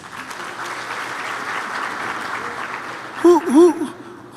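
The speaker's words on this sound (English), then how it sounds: "Can we give Hoshi another round of applause?" A crowd claps steadily in a dense, even wash of applause, with a few sharp whistles rising above it near the end.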